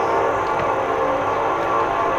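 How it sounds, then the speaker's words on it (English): A train passing at a distance from a garden, a loud steady rumble with a sustained tonal hum throughout, no talk. "Well, you hear that train."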